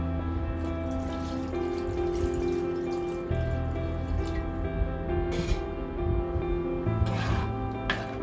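Water steadily poured into a thick fish curry masala paste in a cooking pot for Kerala red fish curry, a continuous trickling, splashing liquid sound heard close and alone with occasional drips and clinks, no talking.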